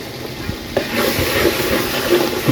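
Goat liver and ground cumin are stirred in hot oil, giving a close, continuous sizzle with scraping stir strokes and small pops, and no talking.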